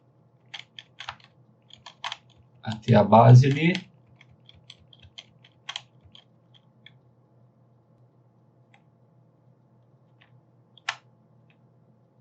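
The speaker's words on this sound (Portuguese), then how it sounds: "usando a setinha para baixo do teclado" Computer keyboard arrow keys pressed in scattered single clicks, with a brief spoken phrase in the middle of the sparse tapping.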